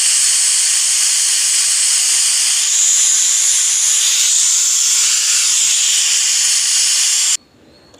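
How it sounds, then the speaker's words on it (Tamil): A pressure cooker holding spinach and toor dal whistles in one long, loud, continuous hiss of steam that cuts off abruptly near the end, with no talking. "கீரை இப்போ குக்கரில் ஒரு 4 விசில் வச்சு எடுத்துக்கலாம்."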